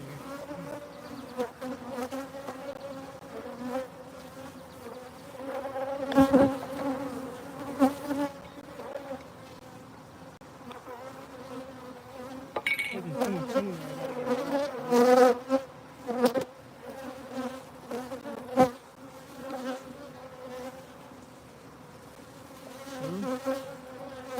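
Honey bees buzz around frames of harvested honey, a steady droning hum with individual bees passing close and swelling louder at moments, plus a few sharp knocks and handling clunks.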